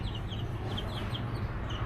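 Faint, high cheeps from a group of baby chickens come in short bursts over a constant low hum, with no voices present.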